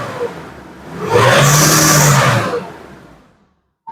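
A Nissan Navara D40 with a common rail diesel engine revs up sharply, holds a loud, rising roar for about a second, then falls back and fades, heard close by with no talking.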